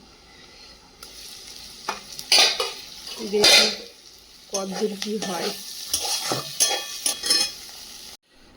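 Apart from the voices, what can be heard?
frying and stirring pointed gourd in pan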